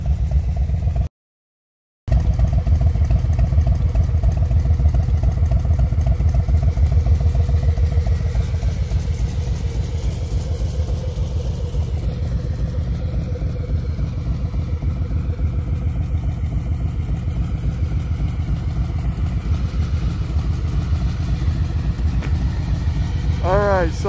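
A 2020 Harley-Davidson Road Glide with a stage one upgrade and aftermarket pipes idles close by in a steady, deep, loping rumble that continues throughout, broken only by a brief dropout near the start.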